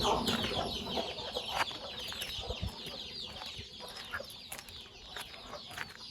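Brooding desi hens with their chicks on a village poultry farm, clucking and cheeping in steady overlapping calls at close range, with a busy continuous layer of small bird sounds throughout.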